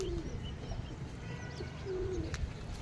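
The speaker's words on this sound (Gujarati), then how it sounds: "કેટલા કબૂતરા છે" Pigeons cooing at a water spot where hundreds of them gather to drink, soft low repeated coos over a steady murmur of background noise, with no one talking.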